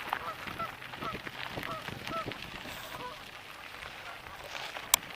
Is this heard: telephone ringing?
no